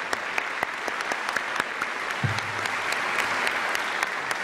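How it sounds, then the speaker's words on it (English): Scattered, uneven handclaps ring out from an audience at a university alumni reunion convocation, sharp individual claps spaced irregularly over a soft room background, with a brief low voice midway. "I particularly want to acknowledge and applaud Jennifer Soster and her crew"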